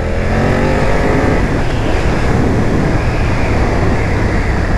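A 2020 BMW F900R motorcycle engine drones steadily while riding, loud and close, with rising revs early on and constant wind rush, and no talking.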